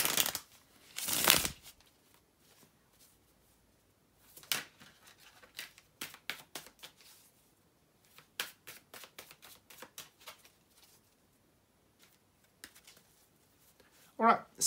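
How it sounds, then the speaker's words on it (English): Crisp riffling of tarot cards being shuffled, several quick bursts of rapid flicking separated by short pauses, close and clear with no talking. "here to shuffle the tarot cards"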